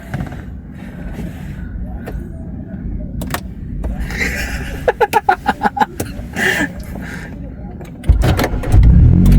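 A vehicle engine cranked and started with the brake held, a series of rapid starter pulses followed by the engine catching and running louder at the end, with a voice talking throughout.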